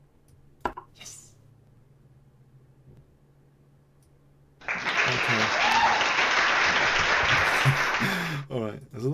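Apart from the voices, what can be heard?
applause sound effect on chess website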